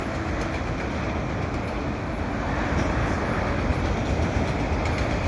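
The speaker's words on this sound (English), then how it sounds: "It's very rare that I get the CP trains here anyway." A CP freight train hauling double-stack containers and auto racks rolls past in a loud, continuous roar and rumble of wheels on rails, steady and close, with no voices.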